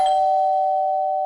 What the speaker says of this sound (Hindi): अचानक डोरबेल की आवाज